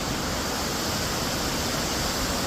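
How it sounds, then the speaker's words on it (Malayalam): A small river runs near Steall waterfall amid mountains, a constant broad rushing roar of water, loud and unbroken, with no talking. "ഇവിടെ ചെറിയ പുഴയുണ്ട്."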